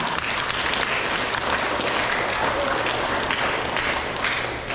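An elementary school audience claps for student award winners at a semester awards ceremony, producing a loud, even burst of applause that fills the whole stretch without letting up.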